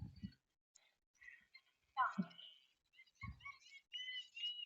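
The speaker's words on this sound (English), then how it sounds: "What's up with the seagulls today? They've been here all morning." Seagulls calling outdoors near a riding arena, heard as scattered faint cries and chirps at a distance, with low thumps and murmuring voices in between.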